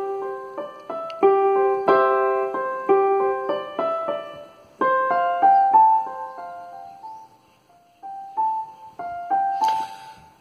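Digital keyboard notes played with varying touch sensitivity, a melodic run of single keys and chords where some strikes land noticeably louder and others softer, clear and close with no voices.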